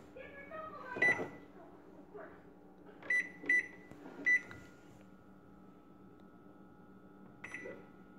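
A microwave oven with an onion inside hums steadily while a few short electronic beeps sound, spaced a second or two apart, with faint background noise.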